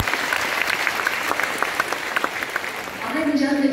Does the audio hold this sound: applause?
yes